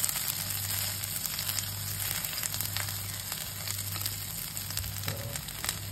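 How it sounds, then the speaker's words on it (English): Tuna patties fry in a pan with a steady, close crackling sizzle and a low hum underneath, with no voices. "So we let it cook for a little bit longer."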